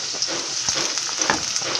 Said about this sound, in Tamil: இப்போ இந்த வெங்காயம் வந்து நல்லா வந்து வதங்கட்டும்.